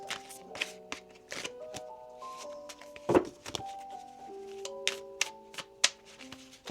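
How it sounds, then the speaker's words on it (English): A tarot card deck being shuffled by hand, with quick riffling bursts and soft taps and thumps of cards repeated across the span, close and fairly quiet, with no talking. "One more shuffle now."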